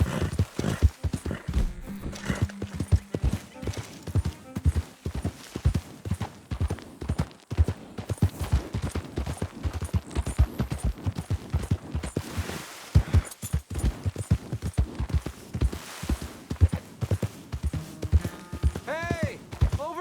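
Horse hooves clip-clop at a steady trotting rhythm in Red Dead Redemption 2 gameplay, close and continuous for the whole stretch, with a brief whinny-like sound near the end and some spoken voices mixed in.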